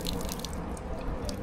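A public drinking water fountain on Budapest's Margaret Island running steadily, with a continuous close splashing trickle and small drip-like accents, heard alone without voices.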